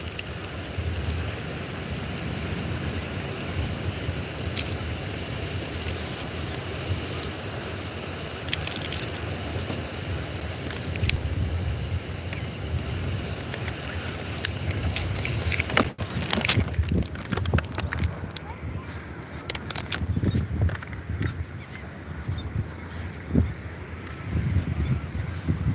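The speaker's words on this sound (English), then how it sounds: "The wind." Wind buffets a microphone outdoors, a steady rumbling roar that goes on for a long stretch and grows gustier with sharp thumps near the end.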